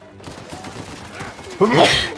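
Gunfire in the video game Uncharted 4, with scattered shots and a louder burst of fire near the end, mixed with game ambience.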